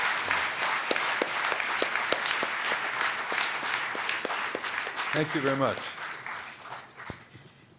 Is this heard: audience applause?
yes